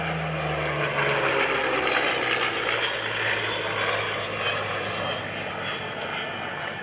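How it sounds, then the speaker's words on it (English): Yak-9 fighter plane with a V12 liquid-cooled Allison engine flying past at an air show, a steady loud propeller-engine roar with a low drone that fades slightly as it passes. "that V12 liquid-cooled Allison engine on the Yak-9"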